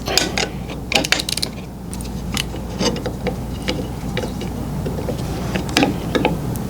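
Screw being tightened on the guard plate of a DeWalt DWS779 miter saw: a run of small metallic clicks and ratcheting ticks over a steady low hum, close up and without talk.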